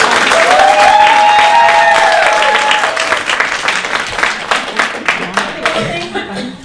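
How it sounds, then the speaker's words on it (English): Loud audience hand clapping at an event, steady applause mixed with whoops and a cheering voice early on, thinning into separate claps toward the end. "We got to give a big hand clap for this."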